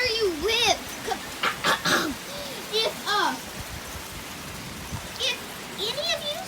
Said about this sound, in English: Comment down below if it's raining at your house, guys, like this